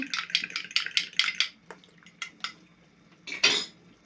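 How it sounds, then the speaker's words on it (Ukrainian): A fork whisks eggs in a bowl for sorrel borscht, a quick run of close rhythmic clinks against the side, then a few scattered taps and a final scrape. "розбовтуємо ще раз наші яєчка"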